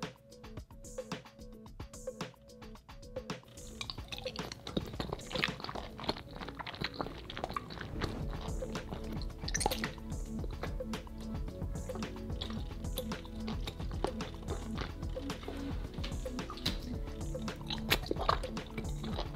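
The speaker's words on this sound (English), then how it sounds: "We've reached the ASMR portion of the video, so if you're triggered by chewing sounds" Close, wet chewing and squishing of edible Orbeez made from gummy bears and gummy worms, in ASMR style, with continuous moist bites and smacks growing denser after a quieter start.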